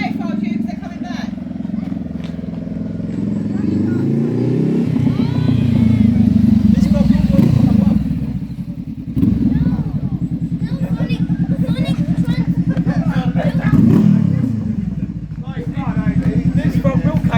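A motorcycle revs and accelerates nearby, its engine note rising and falling in several surges, with people chatting over it.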